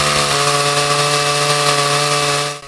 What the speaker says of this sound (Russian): Это так называемый керноотборник, аппарат для забора проб из готового дорожного полотна.